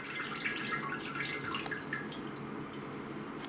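Soaked ladyfingers for tiramisu drip steadily after a quick dip, a fine patter of drops over a continuous watery hiss, close by with no talking.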